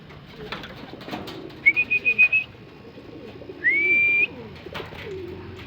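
Racing pigeons in a backyard loft give a few clear calls, one short pulsing run followed by a longer drawn-out note, close by over a quiet background.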